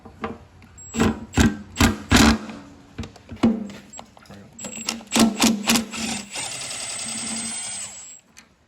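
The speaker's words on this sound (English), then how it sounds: "You just have to remove the 2 bolts up here." Bolts are removed from a motorcycle fuel tank, heard as bursts of a power driver or ratchet spinning in short, loud repeated pulses up close, ending in a longer steady whir, with a voice speaking briefly.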